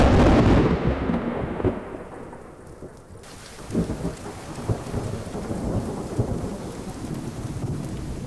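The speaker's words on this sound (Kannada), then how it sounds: "ವರುಣಾಸ್ತ್ರ ಬಳಸಿ ಮಿಂಚು ಗುಡುಗು ಸೃಷ್ಟಿಸಿ ಮಳೆ ಬರ್ಸಿ ಆ ಬೆಂಕಿಯನ್ನ ಆರಿಸ್ತಾನೆ." A thunder-and-rain effect for a Mahabharata episode: a heavy rumbling thunder crash opens over steady pouring rain, and the rain keeps hissing with low rumbles underneath.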